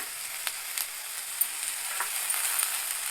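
Curry leaves and fresh coriander fry in a pan for a coconut-free, restaurant-style chutney, giving off a steady, close sizzle with faint crackles and light stirring, with no voices.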